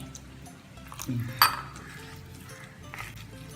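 A spoon stirs palm jaggery (karupatti) into water in a metal vessel while making wheat paniyaram, with light clinks and scrapes against the pot and one sharper knock near the middle.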